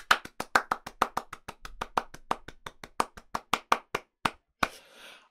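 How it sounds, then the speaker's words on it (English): A single person clapping close by at a tech conference talk, about two dozen sharp, evenly spaced claps that slow slightly near the end before stopping, followed by a brief soft rustle. "It's time for that round the world round of applause."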